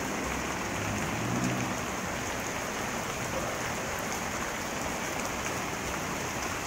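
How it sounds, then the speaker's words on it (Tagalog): Heavy rain pouring steadily, a dense continuous hiss of drops on surfaces at an even moderate level throughout, with no voices. "So yun guys, ang lakas ng ulan."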